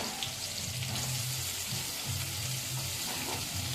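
Chopped onions frying in a pan, a soft continuous sizzle with a low bubbling hum and occasional stirring, close and steady with no voices.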